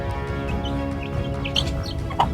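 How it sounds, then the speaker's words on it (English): Aseel hens of a metallic black line cluck softly and scattered, with several short calls and chirps over a low, steady background hum. "These are Aseel hens."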